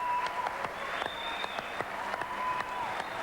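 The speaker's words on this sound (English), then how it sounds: "Put your hands together." A live studio audience at a television show applauds in a dense wash of clapping, fairly close and continuous for a few seconds, with a bit of crowd noise mixed in.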